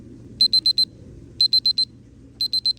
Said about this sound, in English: And just like that, it alarms.